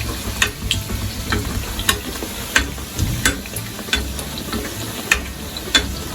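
Bhatura frying in leftover oil, a dense close sizzle running throughout, with regular sharp crackles and pops roughly every half second.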